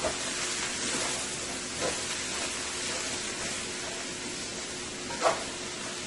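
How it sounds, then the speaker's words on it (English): Bora with salt fish and potatoes frying in a pan, giving a steady, fairly quiet sizzling hiss throughout with a couple of small pops. "I'm going to let this fry for about 5 to 6 minutes"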